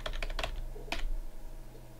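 Code being typed on a computer keyboard in a quick cluster of close keystrokes, a short pause, then another burst of clacks over a faint background hum.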